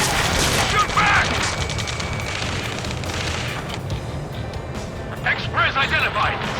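Gunfire and explosions crackle steadily in an Ace Combat 7 rescue mission, a dense, continuous barrage under urgent radio chatter from pinned-down soldiers.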